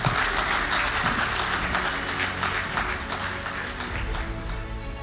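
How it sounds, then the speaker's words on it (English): A conference audience gives a round of applause for J.D. Vance before his keynote. The dense clapping continues for several seconds at an even level, then eases slightly toward the end. "please give a round of applause for J.D."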